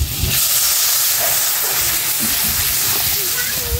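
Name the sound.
water added to sizzling fish curry in a pan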